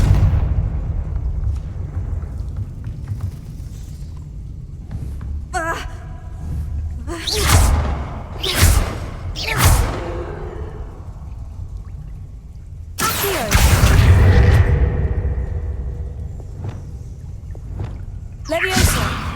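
Confringo fire spell blasts in Hogwarts Legacy, several sharp fiery bursts with crackling whooshes, then a bigger explosion followed by a rushing tail, with a voice speaking between them.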